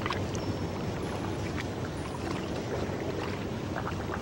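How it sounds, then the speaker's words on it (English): Water lapping and splashing near a park bench, a steady close wash of gentle movement with faint outdoor background, no talking. "sound of the water"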